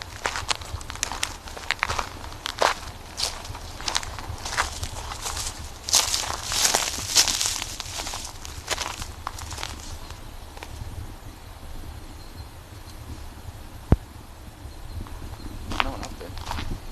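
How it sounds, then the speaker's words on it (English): Footsteps thump and scuff overhead in the ceiling space of a building, a fairly steady run of muffled, uneven impacts. Several are louder and clustered in the middle, and a faint rustle sits under them. "There's footsteps up there."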